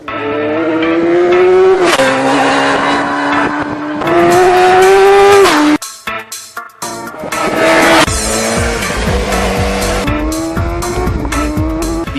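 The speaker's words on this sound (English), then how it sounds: "when it hits the road, this motor is absolutely punchy." A loud BMW inline-four 999cc motorcycle engine revs hard and drops back in repeated surges, with a brief gap of quieter rumble partway through.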